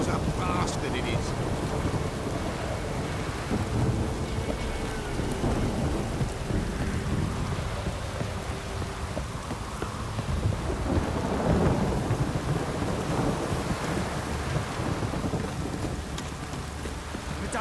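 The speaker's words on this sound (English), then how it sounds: "If it don't stop raining, my arse will rot off." A rainstorm in the game The Witcher 3: heavy, continuous rain pours down throughout with deep rumbles of thunder rolling underneath and a loud, dense wash that never lets up.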